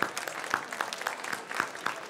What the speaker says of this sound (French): Et on peut applaudir Mounir.